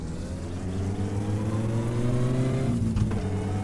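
Stick-shift car engine in My Summer Car, a loud steady drone that climbs in pitch as it revs up, then shifts and wavers near the end with a brief mechanical clunk.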